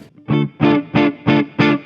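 Electric guitar on the rhythm pickup through a Marshall Origin 20 head and cab, with a Boss DS-1 pedal bypassed and set near breakup with no reverb or delay, plays five evenly spaced strummed chords, loud and close.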